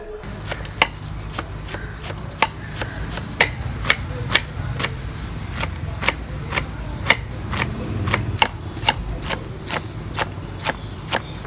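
Fresh coriander and mint being chopped with a knife, a steady series of sharp, evenly spaced cuts close by over a low background hum.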